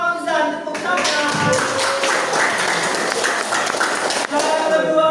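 A classroom group claps for a first-place winner, a dense burst of many hands slapping together, with voices briefly heard at the start and end.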